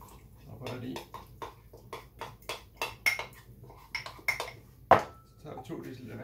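A spoon stirs a sourdough mixture of starter, coarse flour, wheat flour and water in a bowl, making a run of rhythmic scraping and knocking strokes close up, with one sharper clink near the end.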